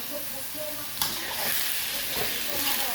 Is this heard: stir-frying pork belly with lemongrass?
yes